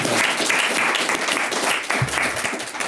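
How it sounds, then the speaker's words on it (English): Audience applause at a Savannah State celebration of twenty years of behavior analysis, loud dense clapping close by, steady for a few seconds with slight dips and a brief voice underneath. "round of applause, man"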